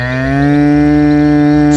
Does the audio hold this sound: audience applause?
no